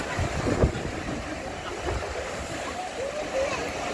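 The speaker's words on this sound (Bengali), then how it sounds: "প্রচুর ঢেউ, প্রচুর ঢেউ" Sea waves break along New Digha beach under strong wind, a broad rushing wash with buffeting gusts on the microphone and a couple of heavier surges early on.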